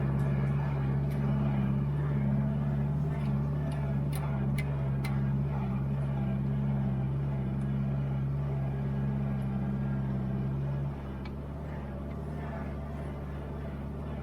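A-series engine of a Mini-based 1970s Turner Ranger tractor idling steadily nearby, a low humming drone with faint ticking on top, the level dropping slightly toward the end.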